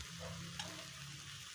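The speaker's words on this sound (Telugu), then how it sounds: "ఈ కారం మొత్తం కలిసిపోయేలాగా ఫ్రై మొత్తానికి ఇలా కలిపేసుకోవాలి" A spoon stirs chili powder through a cabbage egg fry in a pan, a faint steady sizzle with a soft scrape of stirring partway through.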